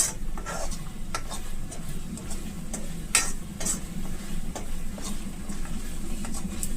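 Coriander chutney cooking in ghee in a pan, old-style, giving a soft steady sizzle with stirring and light scraping clicks throughout, close and moderately quiet with no talk.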